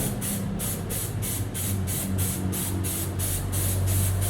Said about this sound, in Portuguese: É uma tinta spray, faço a aplicação.